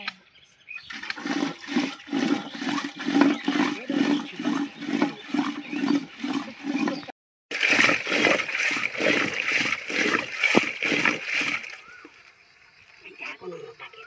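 A grandmother churns buttermilk (ghol) by hand, giving a rhythmic sloshing, splashing pulse in quick even strokes, close and continuous, broken by one brief pause, with a voice heard near the end.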